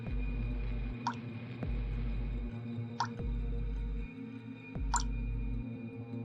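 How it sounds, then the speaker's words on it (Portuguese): Slow drips from a leak fall one at a time, three or four distinct plinks spaced about two seconds apart over a low, steady background hum. "Todas as noites, a família ouvia o som irritante de uma goteira pingando."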